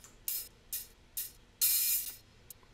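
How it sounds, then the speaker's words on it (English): A chopped Holy Child Hi-Hat Groove drum loop sample plays quietly in a beat production, with short hissy hi-hat bursts in an uneven rhythm and one longer open hiss. "It's just a drum sample, drum loop called Holy Child Hi-Hat Groove"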